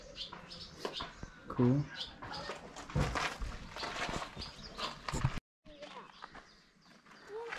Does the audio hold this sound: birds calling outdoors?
yes